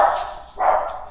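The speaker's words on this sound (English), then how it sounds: "My dogs heard something at the door." Dogs bark at something at the door: two loud, close barks in quick succession, with no talking.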